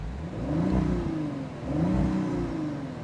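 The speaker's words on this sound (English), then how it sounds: "the moment you press RS, the valves open and" A 2024 Audi RS5 Sportback's exhaust, valves opened in RS mode, revs twice in quick succession, each swell rising and falling, loud and close with no talking.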